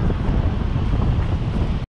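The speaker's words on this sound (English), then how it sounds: "it's raining and windy" Heavy, blustery wind and rain buffeting a chest-mounted GoPro microphone with a dense low rumble while metal detecting in Vietnam, continuous for a moment before cutting out briefly at the end.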